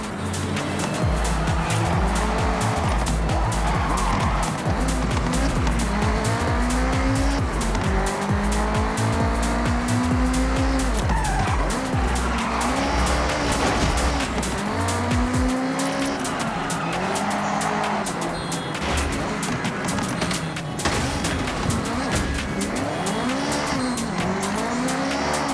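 Cars racing in Forza Horizon 6, engines roaring continuously with shifting revs and squealing, skidding tires throughout, loud and steady with no pauses.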